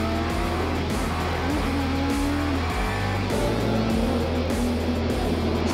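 Super GT race cars roar past at Fuji Speedway in a close battle, with loud, continuous engine drone and shifting gear notes filling the whole stretch.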